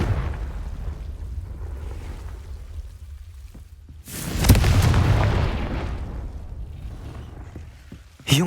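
A Confringo blasting spell explodes in Hogwarts Legacy: one sudden loud broadband blast about halfway through that rumbles and fades over a couple of seconds. Quieter game ambience comes before it, and a sharp burst lands at the very end.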